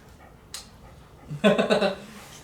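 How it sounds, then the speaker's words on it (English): A dog whimpers and yips in a short, rising burst of whiny vocal sounds, close by and moderately loud, after a brief sharp noise and a quiet stretch in an indoor room with a door left open. "that you might be hearing is my dog wondering what the hell"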